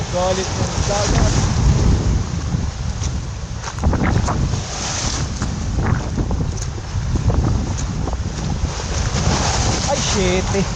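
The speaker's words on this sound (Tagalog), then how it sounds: "Galit ng dagat." Rough sea and gusting wind around a fishing boat in sudden bad weather, steady roaring wind buffeting over crashing waves and low engine rumble, with a voice briefly heard under the noise.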